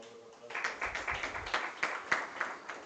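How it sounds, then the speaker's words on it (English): Audience applause closing an afternoon lecture session: a modest spread of claps with distinct individual hits, fairly close and moderately loud, tapering over a few seconds. "Let us have a very big round of applause."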